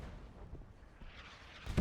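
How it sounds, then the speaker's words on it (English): An artillery strike in the Men of War strategy game on a muddy field map: low, continuous rumbling barrages with scattered dull thuds, building to a louder, closer blast at the very end. "artillery strike coming in now"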